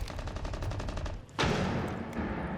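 Shotgun pellets fired in the Rainbow Six Siege video game, during a competitive esports match: a dense burst of rapid, overlapping gunfire with a loud blast partway through, sustained and close.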